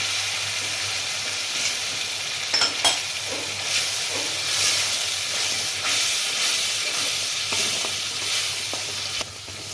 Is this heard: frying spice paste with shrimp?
yes